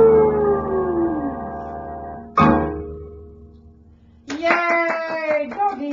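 In a children's dog song, voices imitate dogs, first a long sliding howl, then a sharp short bark-like burst, and finally a choppy, rhythmic run of yapping barks performed together, loud and close.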